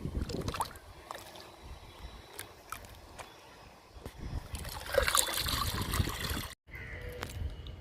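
Liquid fertilizer poured onto potted plants, including a lemon plant, trickling and splashing into the soil in uneven bursts, growing louder midway, with light outdoor background noise.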